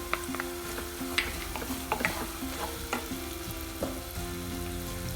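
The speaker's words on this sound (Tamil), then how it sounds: "நல்லா வதங்கட்டும்." Spices sauté in a pan for mango ginger pickle with a steady close sizzle and scattered scraping stirs throughout, with no talk.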